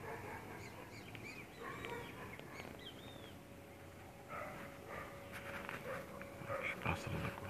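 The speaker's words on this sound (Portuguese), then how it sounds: "Os pássaros acordando." Birds wake in the Amazon forest, scattered chirps and short calls drifting at a distance over a quiet, hushed background, faint overall.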